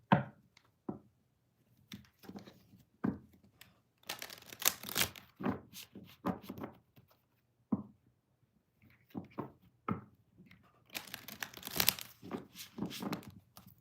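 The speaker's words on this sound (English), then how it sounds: "I need to shuffle." Bursts of crisp tarot card riffling and papery shuffling, coming in short clusters with pauses between, close and fairly quiet.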